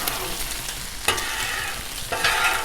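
Metal spatula scraping grease across a hot Blackstone griddle while food sizzles steadily underneath, with two sharper scrape strokes standing out over the constant close frying hiss.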